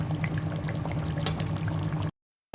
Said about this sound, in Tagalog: Kailangan ko tanggalin yung tubig.